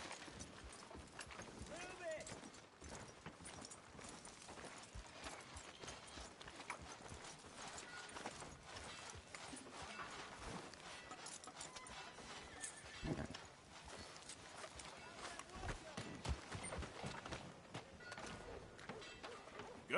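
Horse hooves clip-clop steadily through a video game town street, with occasional neighs and whinnies, heard close under continuous talking throughout.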